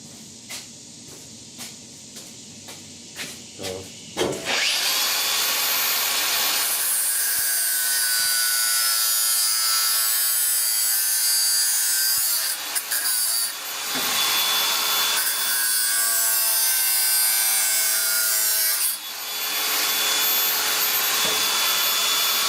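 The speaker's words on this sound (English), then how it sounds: "Snips are great on certain things, but then other things they're not." Hand snips cutting sheet metal while fabricating A/C vent pods for a custom dash in a 1966 Ford F100, a loud, sustained rasping scrape in long continuous strokes after several brief clicks, with no talking.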